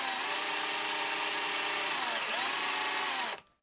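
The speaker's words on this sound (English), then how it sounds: "First of all, I'm going to countersink the screws." A power drill countersinks screws into softwood for a stair railing, a steady loud whine held for about three seconds with a brief dip in pitch before it stops abruptly.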